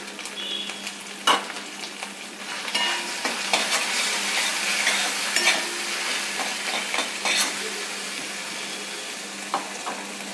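Ginger frying in a pan with salt for amla pickle, a steady sizzle with intermittent scraping and clanks of a spatula stirring, close and fairly loud.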